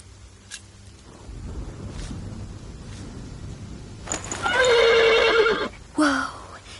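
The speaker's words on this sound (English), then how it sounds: "The horse nearly woke the guard." A horse in The Pillars of the Earth video game lets out one loud, shrill whinny partway through, with quieter game ambience and faint thumps before it and a brief snort afterward.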